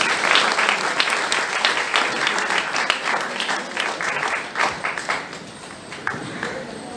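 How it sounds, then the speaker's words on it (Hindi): Audience at a Diwali program claps in sustained applause, many hands in a dense, lively patter that thins slightly toward the end, close and fairly loud. "ये अनमोल प्रस्तुति तालियों से स्वागत करें"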